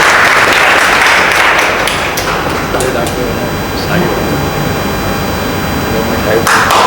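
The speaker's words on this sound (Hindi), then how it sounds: "तालियां बजाते रहिए।" Steady crowd applause fills a NEET results seminar hall held by a coaching institute in Prayagraj, continuous and fairly loud with occasional louder claps and thumps, no voices over it.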